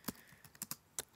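Quick, light keystrokes on a computer keyboard as a file name is typed, about eight separate clicks in an uneven rhythm, close and quiet with no talking.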